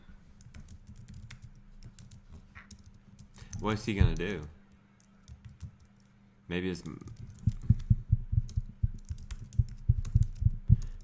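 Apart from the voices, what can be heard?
typing on a computer keyboard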